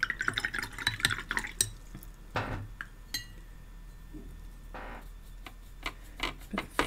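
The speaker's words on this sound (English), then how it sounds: "Let's mix some more paint up" Watercolour brush swirling and tapping in a water jar while paint is mixed: scattered light clinks and glassy ticks with short watery swishes, intermittent and close, alone without voices.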